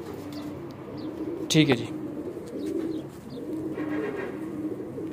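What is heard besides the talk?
pigeons cooing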